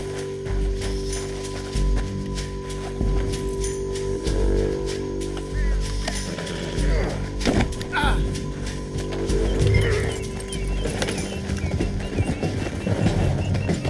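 Horses gallop through a canyon in the video game Red Dead Redemption 2, with steady clip-clop hoofbeats running under voices and a low game soundscape, rising and falling as the riders move.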